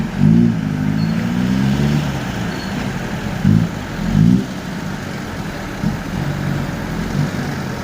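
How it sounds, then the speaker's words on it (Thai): A farm tractor's engine runs steadily nearby, a low rumbling drone with a few louder surges from revving. "รถไถนาซีดไว้แล้วครับนี่"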